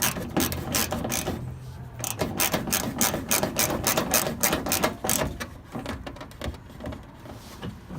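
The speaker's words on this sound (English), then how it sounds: "I'll just use a 10 millimeter here, and we'll just tighten it up." Ratchet wrench with a 10 mm socket tightening a bolt on the front bumper cover of a 2001–2007 Toyota Highlander: a close, steady run of rapid clicking strokes that pauses briefly, then fainter clicks near the end.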